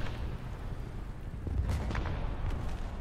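Artillery strike in a tank battle video game, heard as a sustained low rumbling boom with dull distant impacts layered over heavy background noise.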